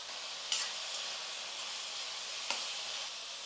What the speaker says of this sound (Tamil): தக்காளி சேர்த்து ஒரு நிமிஷத்துக்கு வந்து நல்லா வதங்கட்டும் தக்காளியெல்லாம்